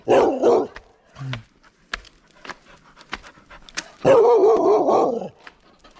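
A dog pants heavily at a hillside temple, two bursts of rapid breathing near the microphone with brief whimpers and soft thumps of play in between.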